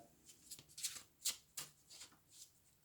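Tarot cards are shuffled by hand, giving soft, quiet riffling bursts in an irregular rhythm, close up and otherwise hushed.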